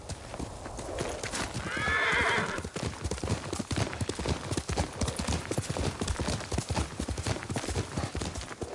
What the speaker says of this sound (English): Yuriko's horse.